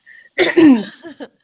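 A single human sneeze, loud and close, made of a short breathy intake and then a sharp voiced burst that trails off, with a small catch at the end.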